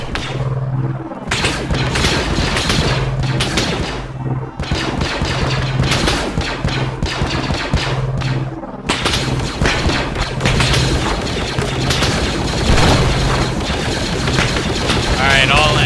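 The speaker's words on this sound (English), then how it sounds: "Keep firing, keep firing." Dense automatic and rifle fire from an Arma 3 Star Wars milsim battle, rapid sustained bursts and booms running nearly nonstop and loud, with only brief gaps.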